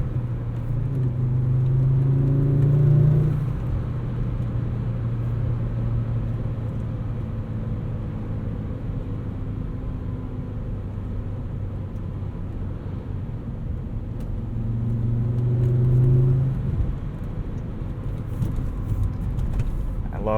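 A Volvo 850 R drives along with a steady engine drone and road rumble, the revs swelling twice as the driver heel-toe downshifts.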